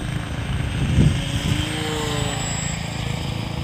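A radio-controlled P-40 model airplane drones overhead at an airfield, a steady buzzing engine whine that swells slightly as it passes, then holds at an even level.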